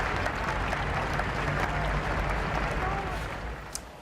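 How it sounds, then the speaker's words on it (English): A wave of applause from an audience, thick sustained clapping that runs evenly, then thins and fades slightly toward the end. "That brought tears and a wave of applause"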